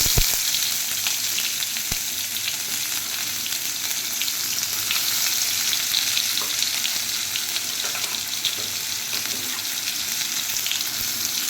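A paste of garlic, onion and ginger fries in hot oil with a loud, continuous close-up sizzle, with a few sharp clinks at the start.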